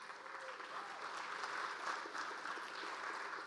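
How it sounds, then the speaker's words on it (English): An audience at a Main Street downtown update gathering at a performing arts center gives a sustained round of applause, dense and even clapping from many hands for several seconds. "Let's all give them a round of applause."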